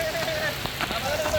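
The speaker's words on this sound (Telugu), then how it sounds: "ఎంత పెద్ద వర్షం పడుతుందో" Heavy rain pours down at the Bahubali waterfalls in Kerala, a dense steady hiss of water close around, with faint voices and thin whistling tones in the background.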